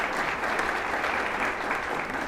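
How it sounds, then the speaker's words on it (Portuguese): An audience at a festival opening ceremony applauds a teacher, a dense and even burst of many hands clapping that stays loud and continuous throughout the short stretch. "eu quero uma salva de palmas para ele"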